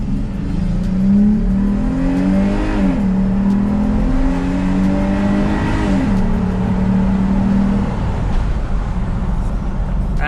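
A Jeep Grand Cherokee engine in sport mode with an Apexi open air intake revs up and down in several rising and falling sweeps, a close, raspy, grumbling drone over a steady low rumble.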